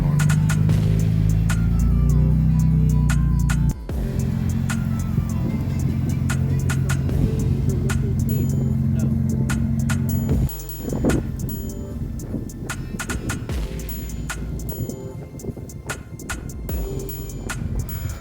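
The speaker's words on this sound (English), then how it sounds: "this M4 is going" A BMW M4 pulls away from a cars-and-coffee meet with a steady low exhaust drone and rumble that shifts partway through, heard close and loud with some wind noise and no talk.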